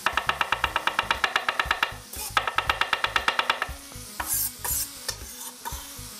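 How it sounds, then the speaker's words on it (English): A knife chops garlic on a board in a fast, steady run of close, crisp taps, then pauses, returns for a second burst and ends with a few scattered knocks. "we're just gonna do a little bit of a chop"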